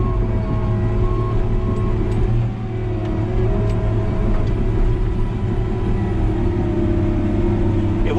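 A heavy truck rolls past an airport runway earthworks site, its steady low diesel rumble filling the scene continuously at close range with a brief dip midway.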